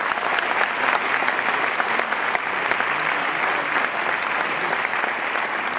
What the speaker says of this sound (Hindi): मेरे जोरदार गगनभेदी ताली